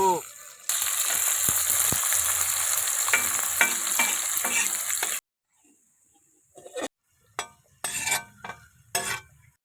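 Food fries in a pan with a loud, dense sizzle for about five seconds, then stops abruptly, leaving only a few short clatters and bursts of pan noise.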